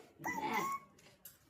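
A voice imitates a dog barking with one drawn-out woof, followed by a short, quieter yelp.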